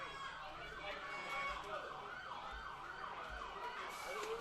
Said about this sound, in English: I think every ambulance and police car in the city.